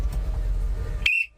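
Whistle blown once near the end, a short sharp shrill blast rising out of low rumbling background noise before cutting off.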